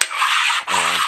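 Double-grit sharpening stone rubbed across the deck of a Willys L-head engine block: two loud, close abrasive rasping strokes separated by a brief pause.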